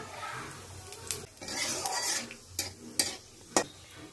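Two large chillies, whole garam masala and a pinch of cumin sizzling in hot oil in a kadai for Bengali dum aloo, a soft crackle with sharp spoon scrapes and metal clinks breaking through, close up.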